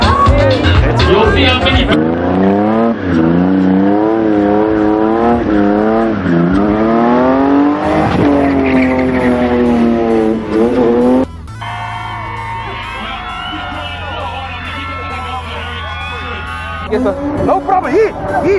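A car spins in a packed stadium, engine revving hard in rising and falling sweeps with tires squealing and skidding through smoke, loud and close, with crowd noise behind and a shift to a higher whine near the end.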